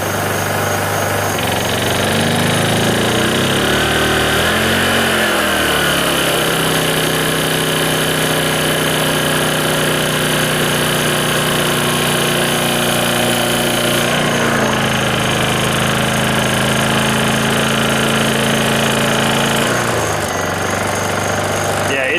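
A Honda inverter generator, EU2000i or EU2200i, labours under a window air-conditioner or microwave load, its engine droning loud and continuous while the pitch surges and sags as it strains.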